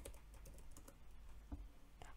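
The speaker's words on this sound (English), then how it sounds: "I feel like my keyboard is really loud." Typing on a computer keyboard indoors, a string of soft, irregular key clicks with brief pauses between bursts, faint and close, no talking.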